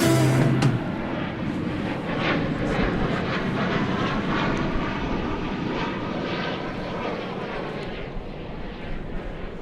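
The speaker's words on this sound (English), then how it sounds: "missed a flight from Albuquerque coming in" A plane arriving at DFW Airport gives a steady, broad engine roar that stays loud throughout, with a faint rushing whine and slowly shifting tone as the aircraft passes.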